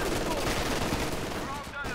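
Rapid machine gun fire in a video game team match, a dense and steady burst of shots that runs loud and continuous for about two seconds.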